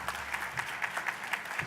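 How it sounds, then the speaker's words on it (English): An audience claps for presenters and sponsors at a business forecast breakfast event, a steady, continuous round of many hands with regular peaks, moderately distant and without talk. "let's give a nice round of applause for our presenters today"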